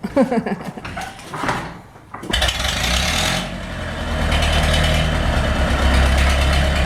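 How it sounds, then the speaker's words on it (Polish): An Ursus tractor engine running without a muffler as it pulls out of a garage, a loud raw idling roar that kicks in after a quieter start and then holds steady and close. "Jedzie bez tłumika, bo tłumik tutaj się nie zmieści do wyjazdu."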